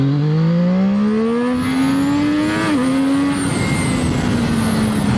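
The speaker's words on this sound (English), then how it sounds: "let's try to accelerate again" A Zhang Xue 820RR sport motorcycle accelerates hard, its engine note climbing steadily in pitch through the gears with a brief dip at a shift, loud and close throughout with no talking.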